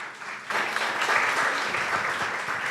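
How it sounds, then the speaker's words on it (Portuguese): An audience at a literary conversation event breaks into applause after a brief quieter moment. The dense clapping swells and holds steady for a couple of seconds. "Então, um aplauso aí também para Brasília."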